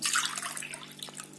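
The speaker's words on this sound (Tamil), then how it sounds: "தண்ணி வந்து ஒரு 4 டம்ளர் தண்ணி ஊத்திக்கோங்க." Water is poured into a pearl millet flour mix, a brief bright splashing stream close by that fades into light trickling and a drip, with no voices.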